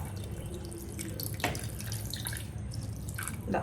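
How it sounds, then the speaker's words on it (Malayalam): Water is poured into a mixed beef roast mixture in a home kitchen, giving a soft, continuous splashing and trickling that stays fairly quiet throughout. "ഈ മിക്സ് ചെയ്ത് വെച്ചതിലോട്ട് കുറച്ച് വെള്ളം ഒഴിക്കുന്നുണ്ട്"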